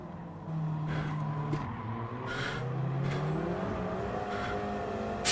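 Race cars in a single-make online league race in a driving video game, engines revving and downshifting as they brake late into a corner, several cars layered together with rising and falling tones throughout.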